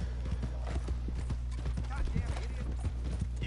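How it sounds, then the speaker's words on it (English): Horse hooves clip-clop in a rapid galloping rhythm in the Red Dead Online video game, steady and close throughout, with game audio in the background. "I'm just gonna run him over on my horse."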